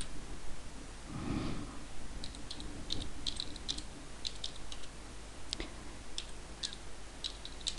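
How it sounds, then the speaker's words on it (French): Search keywords typed on a computer keyboard make a run of quick, light key clicks in small irregular bursts, fairly close in a quiet room, with one louder knock early on. "je tape ces mots et lorsque j'ai fini, bien sûr, je valide avec la touche Entrée."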